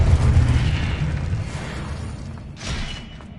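A Confringo blasting spell detonates in Hogwarts Legacy: a loud, heavy boom with a rumbling low tail that fades, followed by a sharper burst near the end.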